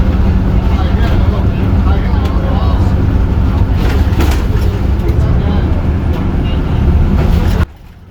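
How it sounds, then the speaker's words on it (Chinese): Inside a public bus in Macau, a loud continuous rumble of wheels on the road and engine noise fills the ride, with indistinct voices mixed in, before the sound drops abruptly near the end. "车轮划过地面，旁边摩托车发动机的声音都能够听到些。"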